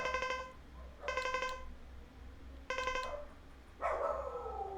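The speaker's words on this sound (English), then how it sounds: "if you can hear my dogs" Dogs bark in sharp, separate yelps, about four of them spaced irregularly, heard at moderate distance over a low steady hum.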